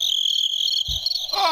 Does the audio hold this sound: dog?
no